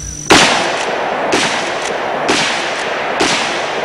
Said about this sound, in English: let's see what this gun looks like in recoil